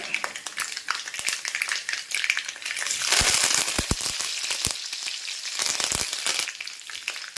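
Mustard seeds and curry leaves crackle and sizzle loudly in hot coconut oil in a pan, with a steady frying hiss and a burst of sharp popping partway through, no voices.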